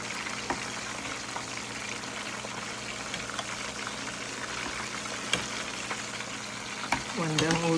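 Steady crackling sizzle of fish frying in a pan for Jamaican escovitch fish, with scattered pops and a brief scrape near the end.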